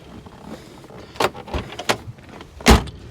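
The doors of a 1962 Corvette are shut with force, giving several sharp thuds and latch clicks over faint background noise, the last slam the loudest.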